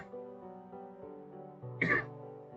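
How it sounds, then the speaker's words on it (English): A single short, rough throat clearing from a man, a brief raspy burst standing out near the end over a steady tonal background hum. "Sorry, I need to clear my throat."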